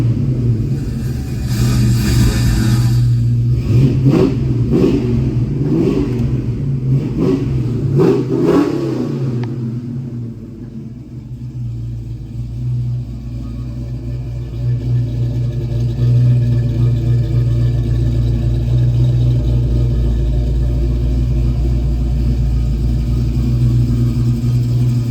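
Revving from a 347-cubic-inch V8 in a 1970 Ford Mustang coupe: a few sharp throttle blips in the first ten seconds, then a steady loud rumbling idle, close by with no talk.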